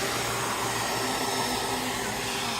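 Server cooling fans roar at full speed over a copper heatsink, a steady, loud, broadband whoosh with a faint tonal whine that holds unbroken throughout.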